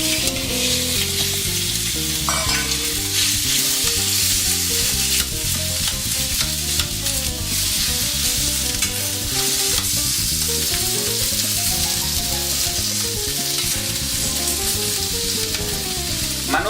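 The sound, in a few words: beef steak (bife de chorizo) sizzling in hot oiled pan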